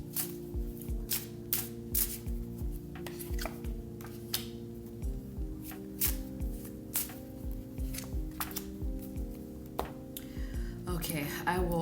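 Tarot cards are drawn and handled during a reading, with repeated soft slaps and shuffling flicks at an uneven rhythm over a steady background tone, and a person talking now and then.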